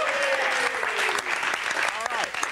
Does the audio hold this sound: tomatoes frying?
no